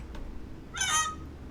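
A goose honk from a sound effect button, one short nasal honk in the middle over a low steady room hum.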